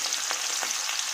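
Carrots, beans and capsicum fry in a pan for chira pulao, giving a steady, close, bright sizzle of oil with faint stirring bursts and no talk.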